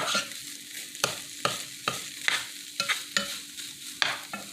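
Ground beef sizzles steadily in a pan over low heat while a utensil stirs in seasonings, sharp scraping strokes recurring about every half second over the continuous frying hiss.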